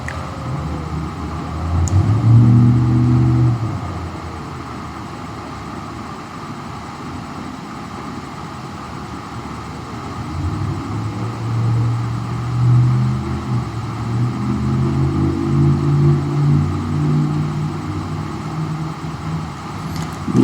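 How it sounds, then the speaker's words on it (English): A truck engine drones outside, its low rumble swelling as it passes, fading, then building again slowly. "There was a guy driving his truck out there."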